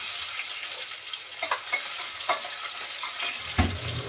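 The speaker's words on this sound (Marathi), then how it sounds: "यामध्ये थोडंसं पहिले जराशी मोहरी घालते" Mustard seeds, cumin and crushed garlic sizzle in hot oil left from frying papad, a constant close hiss with scattered spoon taps and stirring scrapes and a low thump near the end, no talking.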